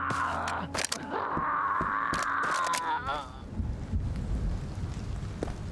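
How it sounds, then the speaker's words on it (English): Rain in the video game Road to Vostok, a rushing wash of rainfall with gusty rumble that comes through more fully once a sustained tone and scattered clicks fade out partway through. "It is raining, of course."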